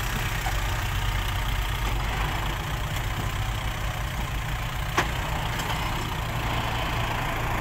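A tractor engine idles while the tractor sits stuck in mud, giving a steady, continuous low rumble with one sharp click partway through. No one speaks.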